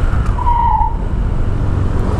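Rear disc brake of a Honda Vario scooter skidding under hard braking, a sharp tonal squeal rising briefly over steady low road rumble, close and loud.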